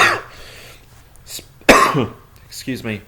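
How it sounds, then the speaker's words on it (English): A sharp, loud cough bursts out between stretches of talking, with a bit of throat clearing around it. "hopefully I won't have this cough that has been plaguing me for a while now"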